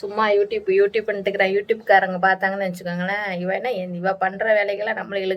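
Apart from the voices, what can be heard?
No everyday noise stands out behind the speech.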